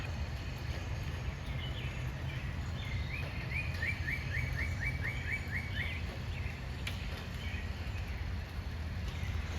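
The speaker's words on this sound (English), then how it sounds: "There's Mr. or Mrs. Mockingbird back again, and the robin is back." In a backyard, a mockingbird and a robin call faintly. A quick run of repeated chirping notes stands out midway against a steady hiss of outdoor background noise.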